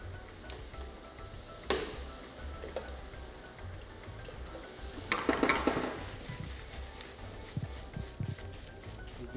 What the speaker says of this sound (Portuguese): Eu vou misturando a massa ao molho.